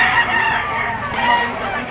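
A gamefowl stag crows at a rooster sale in Lipa City, Batangas: one loud, close, drawn-out cock-a-doodle-doo with a harsh, raspy tone lasting the whole moment.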